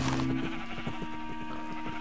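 Sheep in Minecraft bleat in a short, steady run of pulsed calls under a continuous background tone, moderately close, with no talking.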